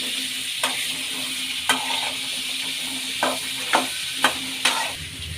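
Chopped radish and green chillies stir-fry in a pan with a steady sizzling hiss, punctuated by about six distinct spoon taps and scrapes at irregular intervals.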